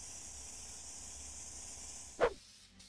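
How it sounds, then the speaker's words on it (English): Raptor bed liner is sprayed onto a pickup truck bed from about 24 inches in even passes, making a steady close hiss with a brief louder burst near the end. "Begin spraying Raptor 24 inches from the surface, using even passes."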